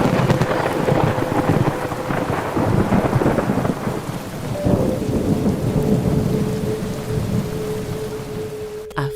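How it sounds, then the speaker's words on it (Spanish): Heavy rain pours continuously through a thunderstorm while deep rumbling thunder rolls beneath it, loud and dense throughout with no voices. "provoca tempestades eléctricas con feroces truenos y violentos"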